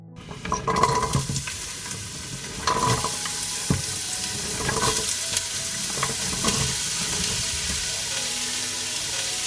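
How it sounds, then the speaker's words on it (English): Chopped onion and celery hit hot olive oil in a pan, giving a loud, steady close-up sizzle with stirring scrapes and brief splashy bursts near the start. "I put the chopped onion and celery on the heated oil."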